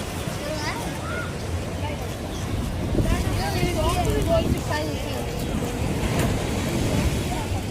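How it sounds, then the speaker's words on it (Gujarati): Sea waves at Chowpatty beach roll in as a continuous rumbling surf mixed with wind buffeting the microphone, while people talk and sing over it close by. "જો જો દરિયાના મોજા જોજો"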